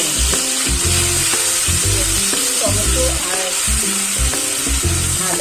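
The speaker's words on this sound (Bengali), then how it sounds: "আমি যে আদা, কাঁচা লঙ্কা, টমেটোটাকে পেস্ট করে রেখেছিলাম সেটা এবার আমি তেলের মধ্যে একটু হালকা করে" A paste of ginger, green chili and tomato frying in hot oil, a dense steady sizzle with repeated clanking and scraping as it is stirred in the pan, close and fairly loud without speech.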